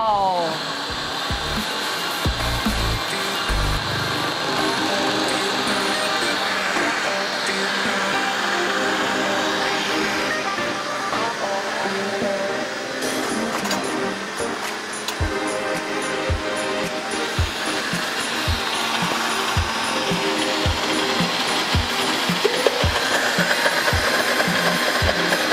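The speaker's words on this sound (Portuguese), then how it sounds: "Quantos minutinhos vai bater aí no liquidificador, Maria?" A kitchen blender mixes savory cake batter, a loud steady motor whir that runs continuously for the whole stretch, with some thumping and faint voices partly under it.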